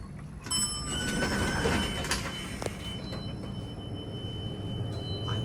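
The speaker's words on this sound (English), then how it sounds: "I love that mechanical chime." A GAL hydraulic elevator arrives at a college building floor, its mechanical chime ringing with a few clear tonal strikes over a steady low machinery hum that continues throughout.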